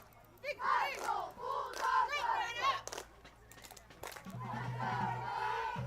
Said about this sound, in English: hearing the roar of the crowd, the passion these people have for these young men on the field